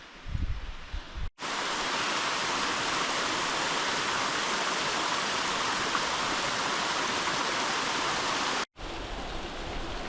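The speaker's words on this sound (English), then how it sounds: "I think we have to almost walk through the waterfall." A steady, loud rush of falling water from a waterfall on the Grinnell Glacier trail roars continuously, broad and hissing, with only brief cuts at the start and end.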